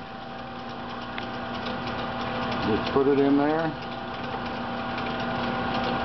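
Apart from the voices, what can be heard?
drill and lathe running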